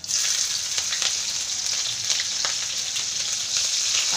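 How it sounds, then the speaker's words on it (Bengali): Green chillies crackle in hot oil with cumin and mustard seeds, a dense steady sizzle with scattered sharp pops, close and continuous with no voices. "জিরে সর্ষেটা আমার হয়ে গেছে, এখন দিয়ে দেবো আমি কাঁচা লঙ্কা দিয়ে দিচ্ছি।"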